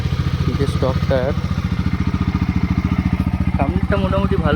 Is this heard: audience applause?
no